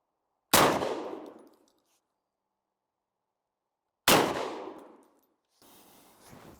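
Two loud, close shotgun blasts from a Beretta 1301 firing home defense loads, several seconds apart, each ringing off in a long decaying echo outdoors, with faint handling noise after the second.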